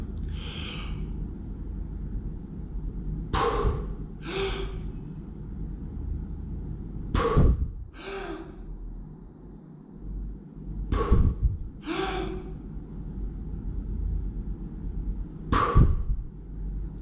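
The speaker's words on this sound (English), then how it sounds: "I've just completed 3 recovery breaths at the end of the dive" A breath-hold diver surfaces and takes recovery breaths, a series of sharp, close gasping inhalations and forceful exhalations spaced a few seconds apart over low background noise.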